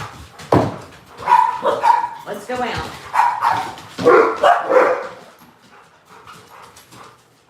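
Dogs bark indoors at a farm studio, several loud barks and yips coming in bursts close by, mixed with a person talking over them.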